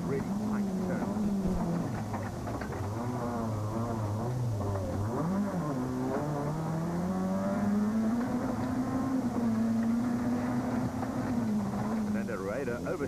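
A Toyota Runx rally car drives a stage, heard from inside the cabin: the engine drones loud and constant, its pitch rising and falling with gear changes and throttle, while a voice talks over it.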